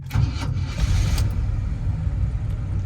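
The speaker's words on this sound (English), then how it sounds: "The engine's nice and quiet, but the dual exhaust gives you a nice little, lets people know you're in charge." A 1978 Chevrolet Suburban 4x4 with a new carburetor and dual exhaust rumbles after starting, a steady, loud, low engine idle lasting throughout with no talk.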